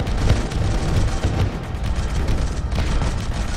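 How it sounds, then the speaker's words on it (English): Twin missiles blasting in the Neurovoider game, a dense rumbling run of booming detonations that stays loud and continuous throughout with no talk. "these twin missiles are actually working out a little better for me"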